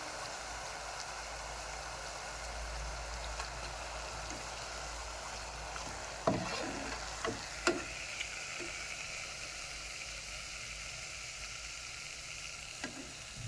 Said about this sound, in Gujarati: પૂરીઓ આપણી તળાઈને સરસ મજાની તૈયાર થઈ ગઈ છે.